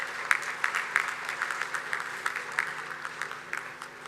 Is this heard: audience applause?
yes